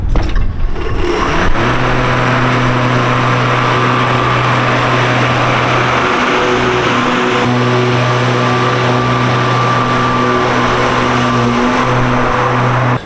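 A cordless battery lawn mower cutting grass along lawn edges beside paving, a loud steady motor whine with a sustained hum held close throughout and a slight shift in pitch partway through.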